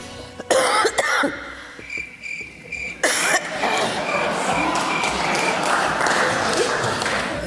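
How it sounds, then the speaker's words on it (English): A few sharp coughs ring out in South Africa's parliamentary chamber during a no-confidence debate, followed by a burst of scattered applause and murmuring crowd noise. "that cough comes at a strategic moment"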